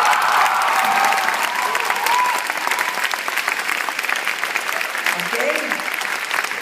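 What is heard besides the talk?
audience applauding and cheering at a keynote address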